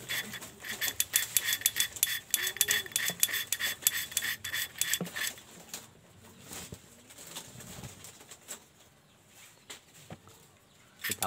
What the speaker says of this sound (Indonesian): Kita putar-putar terus seperti ini sampai halus.